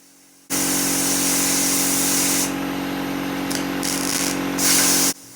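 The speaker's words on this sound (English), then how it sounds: "you use the air gun to blow out the area that you just did your one weld on" A compressed-air gun blasts a steady, loud hiss for about five seconds, blowing out a freshly welded area on a Dodge Charger body panel in a small garage, with slight pulses in the airflow near the end.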